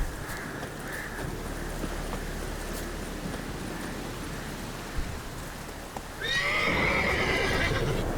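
A horse in the video game The Witcher 3 neighs loudly near the end, after several seconds of steady rain and hoof clip-clop on the ground, with no talking.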